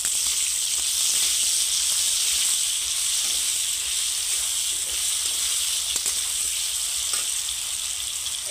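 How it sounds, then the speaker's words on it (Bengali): Potatoes frying in hot oil with a little salt, a continuous bright sizzle and hiss that holds steady and close throughout, with no talking. "প্রথমে সামান্য একটু নুন দিয়ে আলুগুলো ভাজবো"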